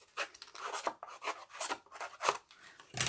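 Scissor blades rasp along paper edges to distress them, a quiet run of short, uneven scraping strokes, close and alone.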